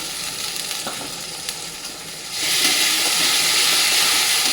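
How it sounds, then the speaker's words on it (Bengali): Onions and tomatoes fry in a pan with a close, hissing sizzle that jumps sharply louder and brighter halfway through, then holds steady. "পেঁয়াজ টমেটোটা মানে হালকা করে একটু ভেজে নিয়েছি বেশি লাল লাল করে ভেজে নিই"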